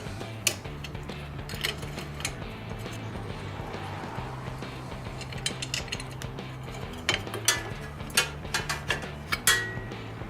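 Small metallic clicks and ratcheting of a wrench come in short irregular bursts while the single 8 mm bolt on a Vulcan 1600 Classic motorcycle's rear brake master cylinder is removed, close and fairly quiet over a low background hum.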